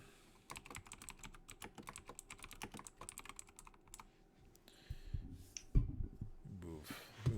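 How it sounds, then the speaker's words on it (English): Typing on a loud computer keyboard, rapid irregular key clicks running steadily for several seconds close to the microphone, then giving way to a few louder thumps and handling bumps near the end. "Move my loud ass keyboard further away from my microphone."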